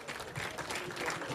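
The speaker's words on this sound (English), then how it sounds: "We give a round of applause" Audience applause at a Tarehe Sita anniversary celebration, a dense, steady patter of many hands clapping together for just over a second.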